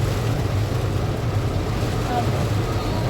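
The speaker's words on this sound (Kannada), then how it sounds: "ತುಂಬ ಗಾಳಿ ಮಳೆ ಬರ್ತಾ ಉಂಟು" Loud, constant wind roar buffets the microphone, with a heavy rushing wash like rain and spray, no break throughout.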